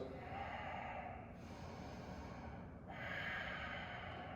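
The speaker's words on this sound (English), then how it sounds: "Take some big, long breaths through your nose." Big, long breaths drawn through the nose during a yoga class, two slow airy inhale-exhale cycles close to the mic, steady and breathy with a brief lull between them.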